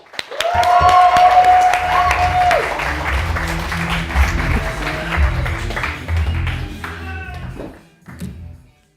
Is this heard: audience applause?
yes